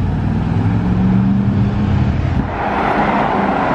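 Luxury cars such as Mercedes, Porsche Taycan and Bentleys creep through congested Monaco traffic near the Yacht Club, producing a steady close engine and road rumble with no speech.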